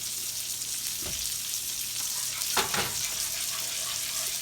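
Thick gravy for chicken fried steak bubbles and hisses softly at a low simmer in a pan, with a couple of brief clanks or stirs partway through.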